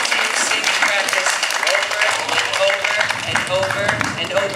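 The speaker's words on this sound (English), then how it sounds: "I'd like you to give them a round of applause" Dense round of applause from an audience at a teen summer-camp performance of Legally Blonde, outdoors in the park, with many hands clapping steadily and loudly throughout, voices and cheers mixed in.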